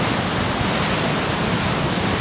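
Loud, steady roar of floodwater rushing down an overflowing stream during a September rainstorm in Borçka, Artvin, heard close and continuous with no break.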